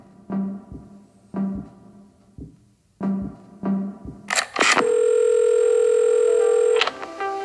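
In the video game Assemble with Care, a few clunky handling clicks and knocks precede a telephone receiver lifting, followed by a loud, steady dial tone that holds for about two seconds and then cuts off.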